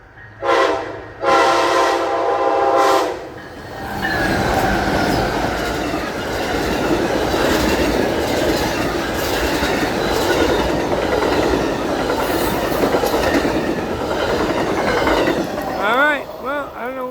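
An Amtrak passenger train passes close by on the rails, opening with loud horn blasts, then a sustained rumble and rhythmic clatter of wheels, ending with squealing wheels as it goes by.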